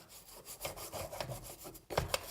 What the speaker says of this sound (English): I'll rub it in all the cracks and all the slots and all the holes.